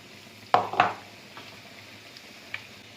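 Bajji batter dropped into hot oil for tea-stall style bajji, two sharp splashing sizzles close together, then a faint bubbling with a small pop later, otherwise quiet.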